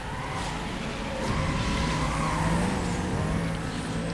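Porsche Cayman race car in Need for Speed: Most Wanted launching from a start, a loud continuous engine roar with rising revs and tire noise filling the whole stretch.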